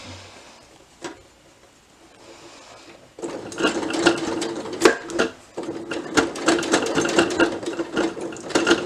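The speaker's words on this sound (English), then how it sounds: "So you're going to sew over that in just a couple stitches beyond" Sewing machine stitching over twisted fabric pleats: after a quiet start, a rapid mechanical needle clatter runs steadily and close for several seconds.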